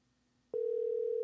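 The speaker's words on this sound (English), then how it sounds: "Okay, it's ringing." An outgoing telephone call's ringback tone starts after half a second of near silence. It then holds as one steady, clean tone at moderate loudness until the end.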